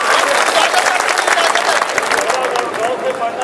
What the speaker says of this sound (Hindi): आप एक बार मुझे तालियां बजा के इजाजत देंगे